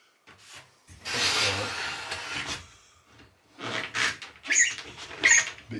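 Glass shower cubicle door on a narrowboat squeaking and rubbing against its rubber seals, with several scraping, squealing bursts separated by brief pauses, close and fairly loud.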